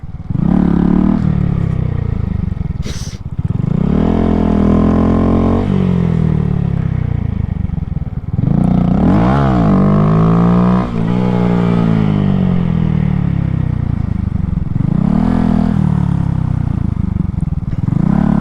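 A motorcycle practising wheelies revs hard in repeated rising pulls, and each climb is cut off by a drop in pitch as the throttle is released, heard up close and loud.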